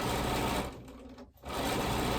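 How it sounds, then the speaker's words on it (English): Sewing machine stitching quilt squares onto a black strip one after another, a steady close mechanical whir that briefly slows and dips near the middle before picking back up to full speed. "just keep sewing like that until I've sewn all of my squares to the black strip"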